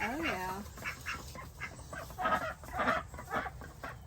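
Farm ducks quack faintly in short repeated bursts near some water, soft and somewhat distant, with people talking quietly alongside.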